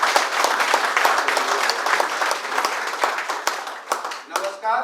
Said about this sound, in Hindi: जोरदार तालियों से स्वागत करेंगे इनका।